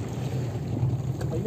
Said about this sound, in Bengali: আর প্রচুর ঠান্ডা হাওয়াও বইছে